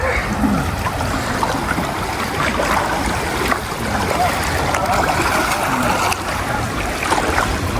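A clear river stream near Puerto Vallarta, rushing steadily with a broad, constant wash of flowing water, close and continuous throughout.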